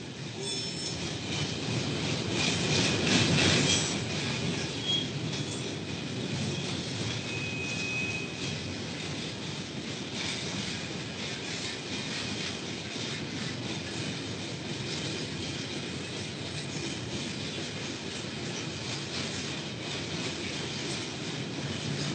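A SNIM freight train convoy rolls along a railway in the Mauritanian desert, a continuous loud rumble of wagons with grinding wheel noise and a brief swell of squealing near the start, heard alone with no talk.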